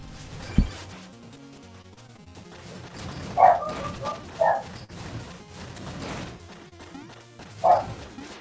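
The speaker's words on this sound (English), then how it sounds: "Doggo barks." A dog barks indoors, several separate loud barks spaced apart, while video game music and effects play underneath.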